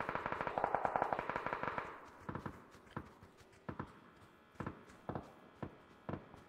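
Gunfire in a multiplayer video game, heard as a rapid automatic burst at first, then a string of separate sharp shots at irregular intervals, fairly quiet overall.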